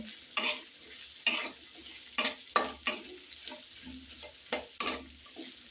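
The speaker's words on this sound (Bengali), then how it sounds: "এটা একটু ভাজবো" Dried fish, eggplant and potato frying in a pan, with a quiet sizzle broken by several sharp, spaced scrapes and knocks of a utensil against the pan, close and with no speech.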